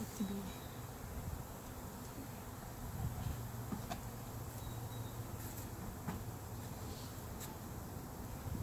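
A dense, steady hum of many buzzing honey bees at a Langstroth hive fills the air, a continuous low drone with occasional individual bees passing close.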